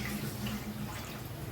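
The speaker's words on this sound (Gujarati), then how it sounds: "હવે આ પાણી કાઢી અને કુકર છે એમાં ઓરી" Water drains off soaked toor dal in a kitchen, a soft continuous run of liquid, faint and steady throughout with no talking.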